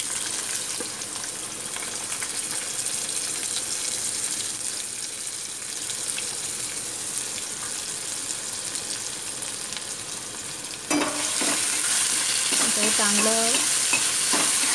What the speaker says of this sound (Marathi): आता कांदा आणि टोमॅटो टाकते